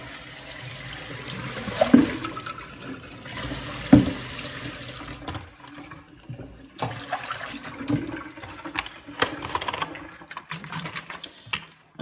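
Water runs from a tap into a sink while plastic growing containers and lids are rinsed clean with a little bleach and water, with a steady splashing flow and a few louder knocks of handled containers near the start.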